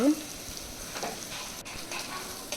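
Siri kura greens stir-fry in a pan with a low, continuous sizzle and a few soft stirring scrapes, heard faintly and close for a short moment.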